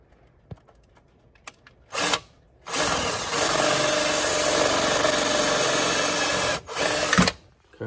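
A power drill bores a hole while a plastic Kizen mitre fence is installed, whining steadily for about four seconds after a few clicks and a brief burst, then stopping and giving one more short whir.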